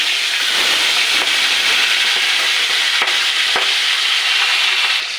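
Boal fish fillets spit and crackle loudly in hot oil on a gas flame after being flipped, a steady dense sizzle with occasional sharp pops, close up and with no voices.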